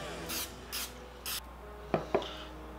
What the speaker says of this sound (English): I'm also gonna hit the tops of these just to give them a little oil.